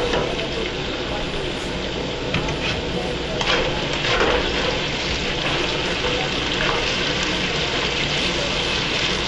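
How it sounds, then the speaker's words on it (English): Potatoes fry in a covered pan with a loud, dense, continuous sizzle and crackle of oil, heard up close, with occasional brief bursts of louder spattering. "See, the potatoes are frying."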